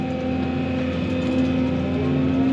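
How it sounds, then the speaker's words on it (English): An excavator engine runs steadily nearby while backfilling around a pool, a constant droning hum with a low rumble and no talking. "I'm gonna get a few bucketfuls and walk it over here with the excavator."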